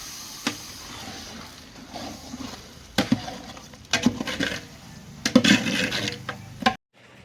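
Beef being mixed with salt and spices in a large pot for biryani, with scattered scraping and clattering knocks of a utensil against the metal pot, quiet between bursts and ending abruptly.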